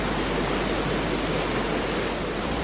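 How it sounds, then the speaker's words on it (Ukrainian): A waterfall in the video game Call of Cthulhu: Dark Corners of the Earth pours with a constant, broad rushing hiss, steady and fairly loud with no pauses. "Тут у нас е, водоспад."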